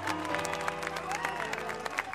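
Applause from a concert audience as a band is being introduced, steady clapping mixed with crowd noise over sustained musical tones, moderately loud and continuous throughout.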